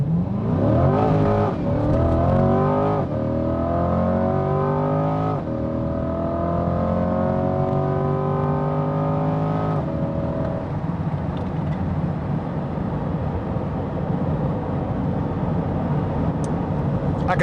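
A Corvette accelerates hard, its engine climbing through several gears with rising whine and shifts, loud and close from inside the cabin, then settling into a steady roar.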